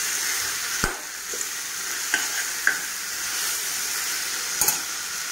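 Pieces of local chicken fry slowly in a pan over low heat, giving a steady soft sizzle broken by a few sharp scrapes and clinks as the meat is stirred.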